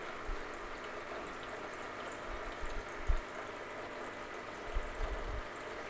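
The drain pump of an AEG/Electrolux/Zanussi tumble dryer runs in diagnostic test mode, giving a faint, steady watery hum with a few soft gurgles and knocks.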